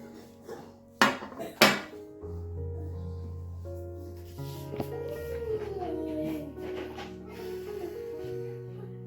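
Dishes and utensils clink as vegetarian food is served onto plates, two sharp metallic knocks early and then softer scraping and clatter over a low background hum.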